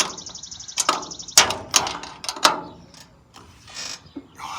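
A wrench tightens a bolt on a mirror bracket of a Kubota L4701 tractor, giving a run of close, sharp metallic clicks and ratcheting taps spaced irregularly, with faint birdsong in the background.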